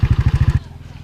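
A motorcycle engine thumps in a fast, regular pulse for about half a second, then drops to a quieter, softer chugging rhythm.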